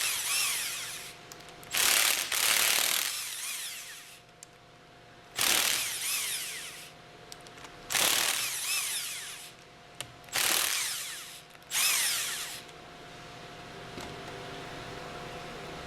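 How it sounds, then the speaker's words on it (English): A pneumatic impact wrench with a 12 millimeter hex loosens valve plate bolts on an HF pump in several short, loud rattling bursts separated by pauses, with a faint compressor hum underneath. "Use the impact wrench with a 12 millimeter hex attached to loosen the 8 valve plate"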